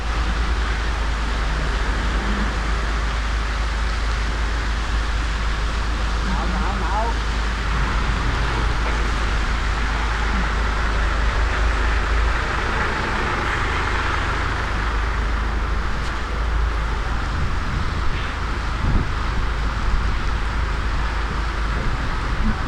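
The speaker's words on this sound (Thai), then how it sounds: "ตอนนี้นะคะฝนกำลังจะตกนะคะ ตกหนักมากเลยค่ะ ตอนนี้นะคะมีลมนะคะพายุนะคะแรงเลยค่ะ" Heavy rain pours steadily through strong storm wind at a Thai checkpoint, a dense continuous roar and rumble that holds at an even, loud level throughout.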